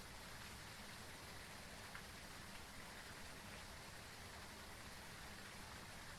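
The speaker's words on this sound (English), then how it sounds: "I just suddenly realized I should be hearing rain" Steady rain from the horror video game Phasmophobia, a continuous broadband hiss of falling drops with no breaks, constant and even in level, heard alone without any voices.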